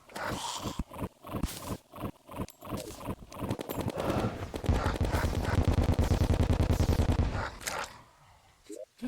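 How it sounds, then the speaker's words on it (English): Rapid, loud bursts of gunfire from the Mega Shark gun firing explosive bullets in the video game Terraria, with dense repeated shots and booming impacts that build into a sustained barrage before cutting off. "Mega Shark with explosive bullets is so, like, over the top"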